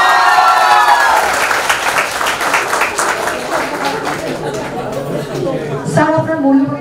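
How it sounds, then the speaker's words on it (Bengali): An audience at a medical college felicitation ceremony for honors achievers bursts into a sustained round of clapping. It swells, then tapers, and a voice speaks over the start and end. "একবার জোরে হাততালি।"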